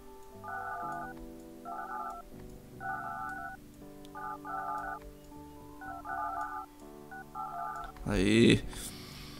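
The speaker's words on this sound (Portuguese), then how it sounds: "Telefone." Telephone dialing tones in the Project Highrise building-management game: six or seven short, even bursts of keypad beeps in a steady rhythm over background game music, then a brief louder blip at the end.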